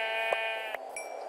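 A Minecraft sheep bleats in a steady, nasal drawn-out tone, with a couple of short soft thuds from in-game action breaking in, close and clear with no voices.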